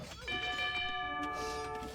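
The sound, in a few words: town bell ringing in Age of Empires video game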